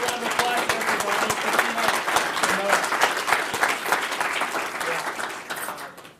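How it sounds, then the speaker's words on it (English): Conference audience applauding at the end of a session, a dense, steady burst of many hands clapping in a room, fairly close and sustained for several seconds before tapering off. "Big round of applause for everybody."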